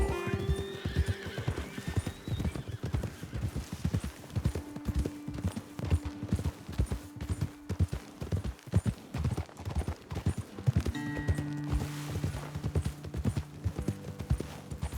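Horse hooves clip-clopping steadily on a trail in Red Dead Redemption 2, a continuous rhythmic patter close by, with whinnies and neighs breaking through and tonal ambient music underneath.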